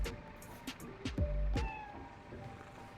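In the Spider-Man: Miles Morales video game, a cat gives a couple of close, clear meows amid soft background sounds and brief taps.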